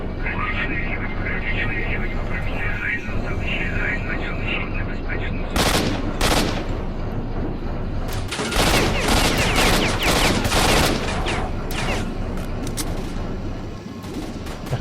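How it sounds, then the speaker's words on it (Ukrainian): In S.T.A.L.K.E.R.: Shadow of Chernobyl, sharp bursts of automatic gunfire crack out in several loud volleys through the middle stretch over a constant ambient drone, while someone talks on top. "По мені ще хтось стріляє"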